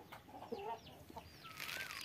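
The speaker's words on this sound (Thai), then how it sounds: "นี่ครับไก่ชนนี่ครับ" A Burmese fighting rooster gives soft, scattered clucks and a brief higher squawk at a distance, faint against a quiet farmyard background.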